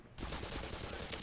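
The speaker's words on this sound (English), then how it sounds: "Oh, he had a turret." Rapid, faint bursts of automatic fire from an enemy turret in the video game Black Mesa, dense and continuous over a brief moment.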